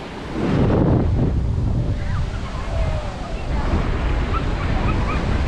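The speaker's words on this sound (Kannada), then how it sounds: "ನನ್ನ ಹಿಂದ್ಗಡೆ ಬ್ಯೂಟಿಫುಲ್ ಸಮುದ್ರ ಇದೆ ಪೂವರ್ ಬೀಚ್" Arabian Sea waves break and roll onto the shore at Poovar beach in a loud continuous roar with wind buffeting the microphone, and some voices faintly in the mix.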